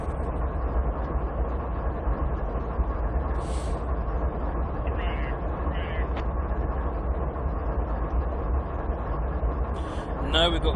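A BNSF ES44DC diesel locomotive on Stevens Pass in Train Simulator 2015 rumbles steadily and loudly throughout, a continuous low engine drone with a few brief higher squeals or horn-like bursts near the end.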